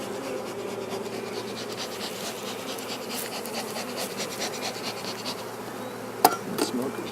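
Honeybees hum steadily and close up during a spring hive inspection, a dense continuous buzz broken near the end by one sharp click.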